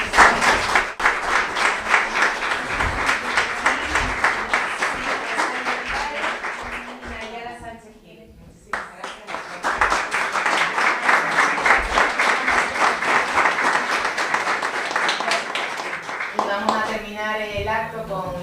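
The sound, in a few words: audience applause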